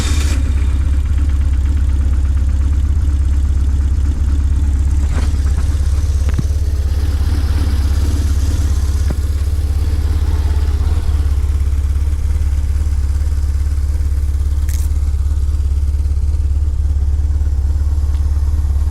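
A 2001 BMW R1150GS motorcycle, 35k miles, idles with a loud, steady low boxer-engine rumble close by, with occasional mechanical clicks over the continuous drone.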